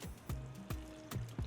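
Water poured into a blender for chicken pepper soup gives faint, quiet splashes and glugs in short bursts with brief gaps between them.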